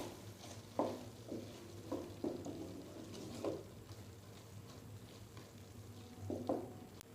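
Chana dal stirred and mixed in a pan with garam masala and coriander, a spoon scraping in soft, irregular strokes over a quiet low sizzle, fairly faint.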